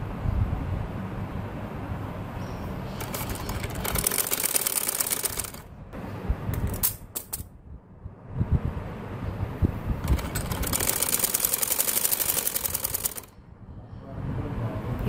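A sewing machine stitches around the round neckline of a kameez, running in several bursts of rapid, whirring stitching broken by short pauses and quieter handling.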